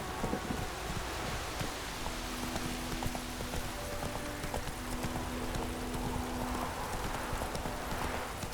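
Steady clip-clop of the horse Roach trotting in The Witcher 3, an even run of hoof beats over a constant outdoor ambience, with no voice over it.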